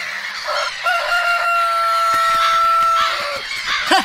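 A cartoon rooster crows loudly in one long, sustained cock-a-doodle-doo with steady pitch, ending with a brief squawk, set against a bright background score.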